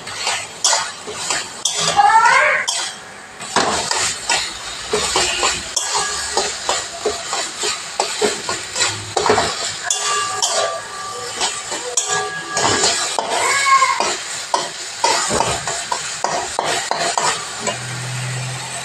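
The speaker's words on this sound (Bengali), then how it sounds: "নাড়ানো হচ্ছে।" Taro greens and a hilsa fish head being stirred in a pan, a close, busy scraping and clatter of the utensil with a light sizzle beneath, continuing in uneven strokes.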